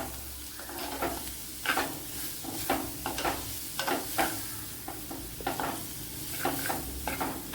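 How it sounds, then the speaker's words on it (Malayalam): Chopped ingredients are stirred in a pan over a steady sizzle, with regular scraping strokes roughly every half second, close and moderately loud, with no talking. "ഇതിനെ ഒന്ന് നല്ലതുപോലെ ഒന്ന് ഇളക്കി എടുക്കണം."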